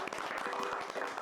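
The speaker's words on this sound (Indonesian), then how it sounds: "Tepuk tangan dulu." Applause from a group gathered for a health-students versus taekwondo-athletes event, a steady dense patter of clapping filling the short moment, fairly close and even in level.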